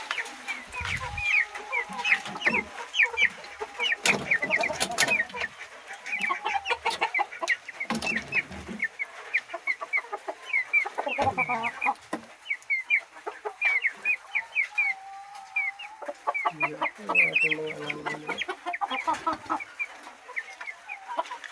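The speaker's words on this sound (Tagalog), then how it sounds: "Itong mga manok." Several flood-affected chickens cluck and chatter close by, a steady stream of overlapping clucks with occasional louder squawks and bursts of noise.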